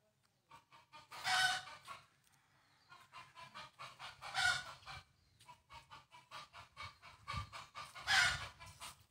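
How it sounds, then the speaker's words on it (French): Chickens at a temple in rural Isan, Thailand, making rhythmic clucks and loud repeated crowing-like calls in three strong bursts, near and fairly clear with no talk. "Les poules ont peur."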